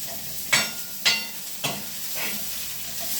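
Onion and cluster beans fry in a pan with a steady sizzle, broken by three sharp scraping stirs early on and softer stirring after, close and fairly loud with no talk.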